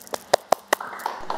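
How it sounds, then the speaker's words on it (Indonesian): A handful of sharp, separate claps from a talk-show audience welcoming a guest, spaced about a fifth of a second apart and fading into scattered softer taps. "Tepuk tangan buat Mas Bilal."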